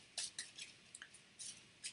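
Board game cards being shuffled in quick soft bursts of riffling and flicking, close and quiet, alone without talk.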